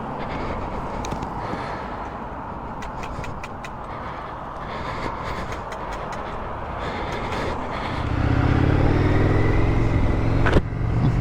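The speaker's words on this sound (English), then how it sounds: "Let's get on and ride and see what this bike's like." An Indian FTR 1200 motorcycle being ridden, a steady engine and road drone under wind rush that swells louder and deeper near the end as the bike accelerates.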